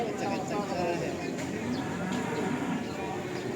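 Cattle mooing steadily at a busy livestock market, a pregnant cow among them, with low lowing calls layered over a constant crowd murmur for several seconds.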